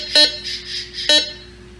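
Two short electronic beeps with a steady high tone between them, from a metal detector in all-metal smart track mode, close and fairly loud with no talking.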